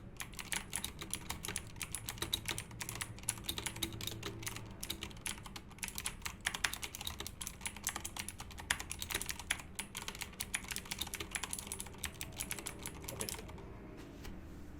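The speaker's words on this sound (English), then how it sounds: "getting annoyed by the clicky sound of the blue switch" Someone types steadily and continuously on a Corsair K95 RGB Platinum XT keyboard with clicky blue switches. The sharp key clicks are close and stand alone, with no voices, for about fifteen seconds.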